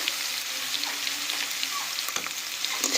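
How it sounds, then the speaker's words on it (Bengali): Eggplant and potato fry in a pan with turmeric and spices, giving a steady, close, continuous sizzle with occasional stirring scrapes. "দিয়ে আর কিছুক্ষণ ভেজে নিচ্ছি"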